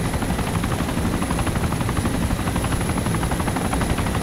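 A large helicopter in the Arma video game thrums steadily with a dense low rotor chop and continuous turbine whine, loud and close throughout without pause.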